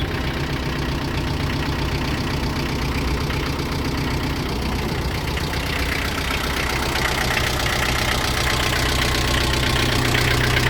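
A Japanese mini tractor's engine idles steadily up close, a continuous low rumble with a faint regular knock running evenly from start to finish, no voices.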